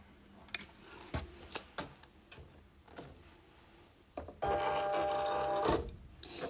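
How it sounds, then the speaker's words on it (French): Cutting mat feeding into a Silhouette Cameo Portrait cutting machine: scattered soft clicks and taps, then a brief steady motorized whir with a faint whine as the mat is drawn in, quiet and close. "J'insère mon tapis dans ma machine."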